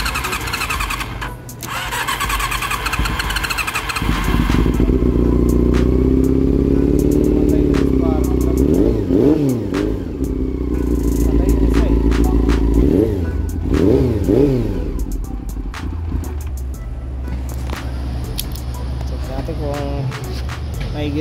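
A nearby motorcycle engine, a Honda CB400, starts and runs loudly with several throttle revs rising and falling, set in a dark workshop during manifold repairs; engine noise continues under background sounds.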